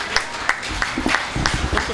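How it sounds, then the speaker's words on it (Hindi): An audience at a poetry gathering (kavi sammelan) in Hapur claps in a short burst of scattered, fairly close hand claps, with some crowd murmur mixed in. "एक बार जोरदार तालियां हमारे भाई अनिल वाजपेयी जी के लिए"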